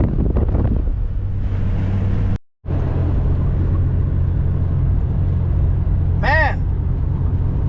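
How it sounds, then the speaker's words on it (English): Steady, strong wind buffets the microphone with a constant low roar while driving through countryside near Wetzel, Ohio, broken by a brief dropout, while a faint voice speaks near the start. "Man, it's windy."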